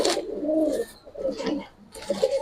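Pigeons, fancy coloured Giribaz breeds kept as pairs, coo close by in soft throaty bursts, several calls separated by brief pauses.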